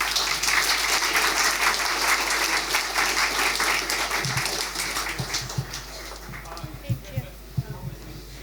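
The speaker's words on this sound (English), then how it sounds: "Another round of applause." Loud applause from a crowd at a Nerd Nite talk in Christchurch fills the opening seconds, then thins out into scattered claps and a few taps as it fades.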